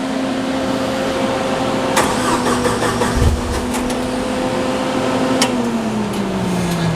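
A TMH THDA machine's engine hums at a steady idle, then a brief starter churn and catch come through midway, followed by the running engine dropping lower, moderately loud and with no voices.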